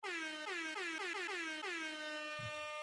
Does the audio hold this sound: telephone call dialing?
no